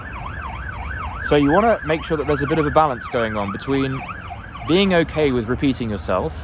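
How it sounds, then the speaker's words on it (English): Emergency vehicle sirens wailing outside, a loud, steady up-and-down rise and fall that keeps going throughout while someone talks close by over it. "Apologies for the sirens."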